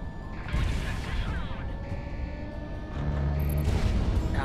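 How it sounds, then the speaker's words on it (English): A missile launching and exploding in the Project Wingman flight game, heard as a heavy, sustained roaring rumble with a deeper boom swelling toward the end, loud and continuous. "Oops, I didn't mean to waste my missile there."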